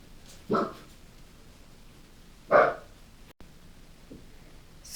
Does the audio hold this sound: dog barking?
yes